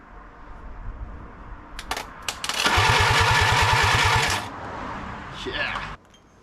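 A Willys CJ-2A Jeep engine cranks over with a rapid, rhythmic chugging from the starter for a couple of seconds, with clicks before and a fainter whir after it stops.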